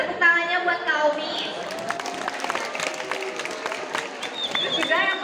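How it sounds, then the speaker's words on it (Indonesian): Audience applause with scattered cheers at a school extracurricular club demo, a dense steady clatter of many hands under crowd noise and raised voices throughout. "Boleh tepuk tangannya buat Kaumi."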